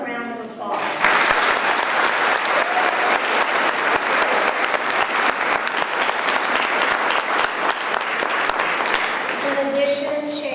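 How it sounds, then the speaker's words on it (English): A crowd at an elementary school dedication ceremony breaks into applause, a loud, continuous round of clapping from many people lasting about nine seconds, with a speaker's voice just before and after. "Let's give them a round of applause."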